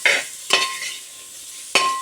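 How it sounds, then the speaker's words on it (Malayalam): Potatoes are stirred in a frying pan with a utensil, giving three quick, close scraping strokes over a faint sizzle of frying. "കിഴങ്ങിട്ട് ഇളക്കാം."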